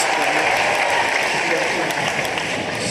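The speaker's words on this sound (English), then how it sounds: "The crowd get going. Listen to that." The crowd at a Commonwealth Games men's doubles squash final on the Gold Coast cheers and applauds loudly in a steady, dense roar, with a commentator's voice mixed underneath.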